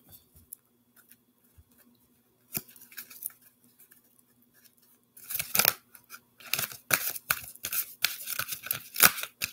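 Tarot cards being shuffled, starting with sparse faint taps and ticks, then turning into denser bursts of crisp riffling and slapping near the end.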